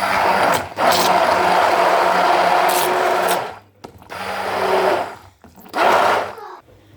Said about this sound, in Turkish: Şimdi bunu mikserden geçireceğiz.